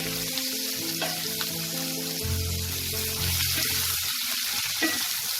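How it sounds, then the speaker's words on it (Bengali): Chopped onion frying in hot oil in a pan, a steady close sizzle with occasional stirring and faint clinks, and no one speaking. "পেঁয়াজটা আমি হালকা ব্রাউন করে ভেজে নেব।"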